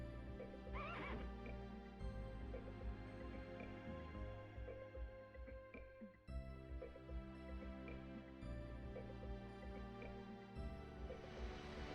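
A horse whinnies sharply near the start, followed by soft hoof and movement sounds over a low, layered game-like background, in the video game Legend of Dragoon.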